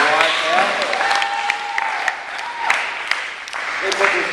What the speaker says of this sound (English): why don't we give a big round of applause to Michaela and the rest of the Y staff.